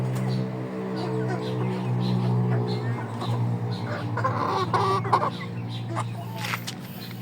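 Shamo and Aseel cross chickens cluck and call near and low in a steady farmyard din, with a constant hum underneath and someone talking over them.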